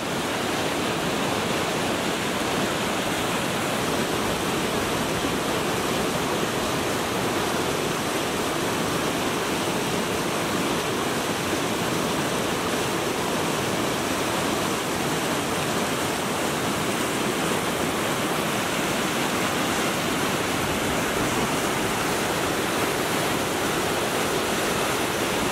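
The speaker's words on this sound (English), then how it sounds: "We got to a pretty big set of rapids here, and Dave's gonna run it." A big set of river rapids roars in the Nova Scotia backcountry. The rushing water makes a loud, steady broadband wash that stays constant for the whole stretch, with no voices over it.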